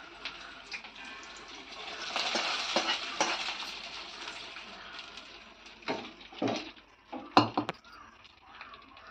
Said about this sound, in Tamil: சாம்பாரை தாளிச்சி ஊற்றியாச்சு.